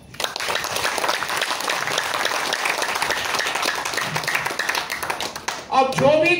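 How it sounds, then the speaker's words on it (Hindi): A seminar audience breaks into loud, sustained applause and clapping that fills the whole stretch, with a voice rising near the end as the clapping fades. "जोरदार ताली बजाओ"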